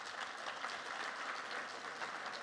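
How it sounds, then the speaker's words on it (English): Faint applause from a conference audience after a panel, a soft, even wash of many hands clapping at a distance for a couple of seconds with no talking. "So please, a quick round of applause for our panelists."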